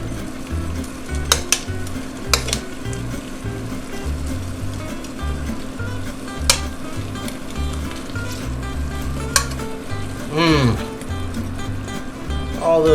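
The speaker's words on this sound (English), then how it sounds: "I'm going to nestle my venison steaks down in there" Venison steaks settle into a hot casserole pan and sizzle steadily, with occasional clinks of utensils against the pan and a low hum underneath, close and moderately loud.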